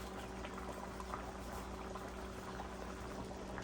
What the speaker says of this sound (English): Oh, it's bubbling, y'all. Yes, I'm just hoping it doesn't bubble over.